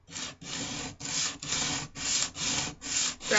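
Steady back-and-forth rasp of sandpaper glued to a block on wood knife scales, eight even strokes in a regular rhythm, close and fairly quiet with no talking.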